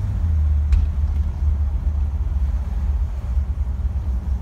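A 1962 Ford Galaxie cruising smoothly at about 40 mph, heard from inside as a steady, loud low engine and road rumble with no voices.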